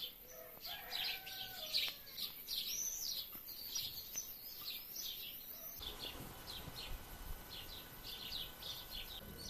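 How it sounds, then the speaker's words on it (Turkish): Small birds chirp and tweet in a quiet village with cherry and apricot trees, scattered short calls at moderate distance repeating throughout over a faint, soft outdoor background. "Kuşların cıvıltılarıyla birlikte köyde huzur var."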